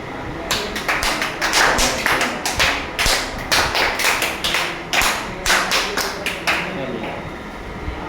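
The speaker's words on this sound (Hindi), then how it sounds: "हाँ सामने कीजिए, स्काउट गाइड ताली बजाना है।" Children in a nursery class clap their hands together in a steady, rhythmic series of sharp claps, loud and close, with a teacher's voice audible beneath.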